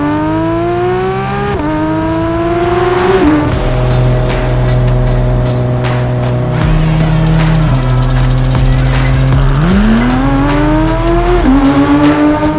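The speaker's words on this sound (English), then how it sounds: "It's about time I get into this beautiful GT3 RS and put the foot flat on that accelerator pedal." A Porsche 992 GT3 RS at full throttle, its engine climbing steeply in pitch through several gears with brief dips at each shift, loud and close, a continuous high-revving wail with no voices.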